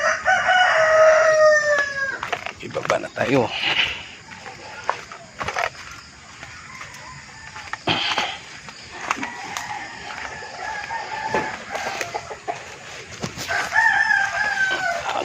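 Chickens cluck and a rooster crows repeatedly nearby, several long crows spread across the scene, with brief human speech and scattered knocks, at a backyard poultry pen with chicks.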